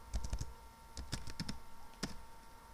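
Rapid clicking keystrokes on a computer keyboard in short bursts, fairly close, with brief pauses between clusters of taps.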